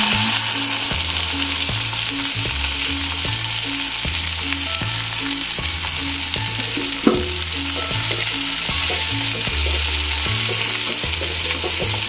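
Okra and urad dal fry in a pan with a steady, loud sizzle, broken by repeated stirring scrapes at a regular pace.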